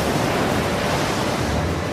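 Ocean waves make a dense, loud, continuous wash of surf noise with a wind-like hiss and no distinct breaks, filling the whole moment.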